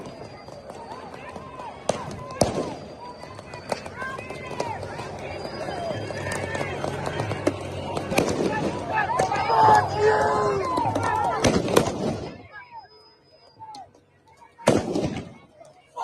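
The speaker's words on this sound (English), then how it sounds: "They are shooting fireworks at law enforcement and National Guard." Fireworks fired at police and National Guard during a street riot in LA crack and bang in sharp bursts over a loud, dense crowd roar with voices, thinning out near the end before one last pop.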